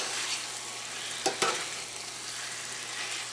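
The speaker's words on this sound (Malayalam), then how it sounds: "ചിക്കനിലേക്ക് ആവശ്യത്തിനോട് ഉപ്പ് ചേർക്കാം ഇതെല്ലാം കൊടുത്ത് നമുക്കൊന്ന് മിക്സ് ചെയ്യാം" Salted chicken being stirred with spices in a pan for Karaikudi chicken curry, a soft, continuous sizzle with two brief scraping clicks partway through, quiet and close.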